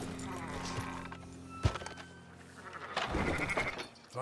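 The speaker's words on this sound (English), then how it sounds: "Fine sheep." Sheep in a Red Dead Redemption 2 livestock pen bleat in short bursts over game ambience, with a sharp knock midway and a louder stretch of activity near the end.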